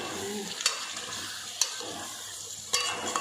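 A spoon stirs mutton curry with fresh coriander in a sizzling pan: a soft, continuous frying hiss punctuated by a few sharp scrapes and taps against the metal.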